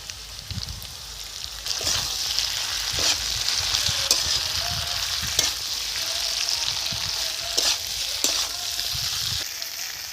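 Cumin and ginger paste frying in a pan, a loud continuous sizzle with repeated scraping strokes of a spatula at an irregular pace, close and without talk.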